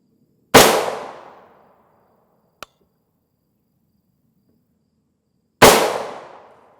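Two loud, sharp M855 rifle shots from a Palmetto State Armory AR build with a Rise Armament trigger strike a Level IIIA armor plate about five seconds apart, each crack ringing out and fading, with a tiny tick between them.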